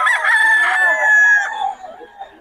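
A rooster among the chickens for sale in Bocaue lets out one loud, close crow that trails off into softer clucking.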